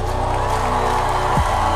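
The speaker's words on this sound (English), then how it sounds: "The crowd loves it." Large pageant crowd at Miss Universe Philippines cheering for a contestant, a loud, steady roar of voices and whoops over music with a deep sustained tone, all through the short moment.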